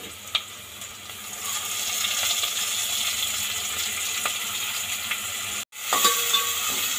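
Cumin, cloves, cardamom, curry leaves and ginger garlic paste sizzle in hot oil, with a steady close hiss, a couple of stirring clinks and a short break near the end; no talk.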